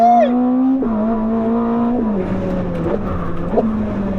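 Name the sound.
1050 hp Ferrari hybrid sports car engine revving on wet track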